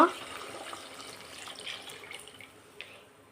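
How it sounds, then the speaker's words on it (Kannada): Water from a jug is poured into a pot of rice for chicken biryani, a soft, continuous splashing and trickling at close range that ends with a few faint drips, no talking. "ಚೊಂಬು ನೀರು ಹಾಕ್ಕೊತಾ ಇದ್ದೀನಿ"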